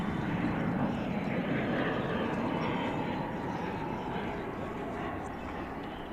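A passenger airliner takes off from a DFW runway, its jet engines giving a loud, steady broadband roar that holds across the whole stretch and eases only slightly toward the end.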